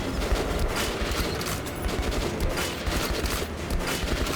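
Rapid gunfire from shooting enemies in Metro Last Light, dense repeated shots in bursts that fill the whole stretch, loud and close.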